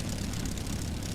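Spitfire Mk1a engine in the FSX flight simulator (A2A), a dense, loud continuous propeller drone with deep rumbling low end, steady and unbroken.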